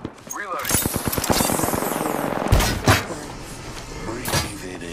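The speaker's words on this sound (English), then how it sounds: "Shots fired and they're hitting me." Rapid automatic gunfire in the PS4 Pro version of Apex Legends bursts out in a fast rattling stream, followed by a few heavier shots, with in-game character voices talking over it.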